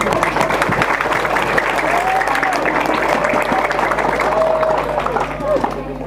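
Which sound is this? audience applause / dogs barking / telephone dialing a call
audience applause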